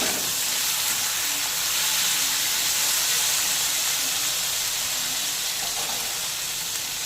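Green chillies, tomato and turmeric powder fry in a pan, a steady loud sizzle and hiss with faint scraping of stirring underneath, continuous throughout with no voices.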